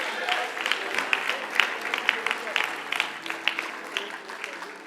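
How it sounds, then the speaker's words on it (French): Church congregation applauding during a French-language sermon, a steady patter of many hands clapping with scattered louder claps, moderately distant and continuous throughout. "Acclame Dieu pour toi-même."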